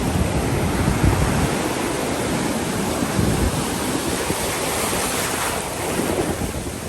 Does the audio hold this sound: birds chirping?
no